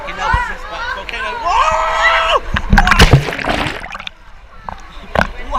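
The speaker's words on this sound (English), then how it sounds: "Waves, mate." Waves in a water park wave pool at Volcano Bay, Universal Studios, surge and splash with a loud watery rush, while excited voices shout and chatter close by throughout.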